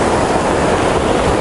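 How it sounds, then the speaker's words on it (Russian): Sea waves break against a beach pier at Adler in Sochi, a steady close roar of rushing, crashing water with no voices. "здесь, короче, волна бьет."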